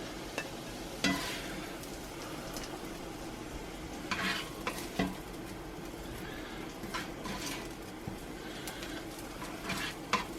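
Canadian bacon frying in a cast iron pan gives a continuous soft sizzle broken by a few sharp utensil clatters, with faint bird coos in the background.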